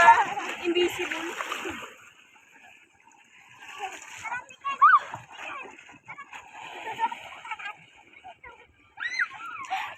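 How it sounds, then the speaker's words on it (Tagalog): Relatives bathing in a river on New Year's Day splash and slosh in the water, bursts of splashing scattered through the scene with people talking and calling out over them. "Dito po kami sa ilog. Naliligo po kami mga kabeshi."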